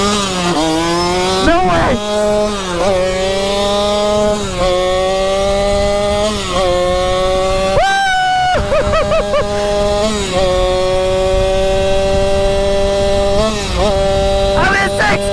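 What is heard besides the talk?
gas-powered Sur-Ron electric dirt bike being ridden, engine revving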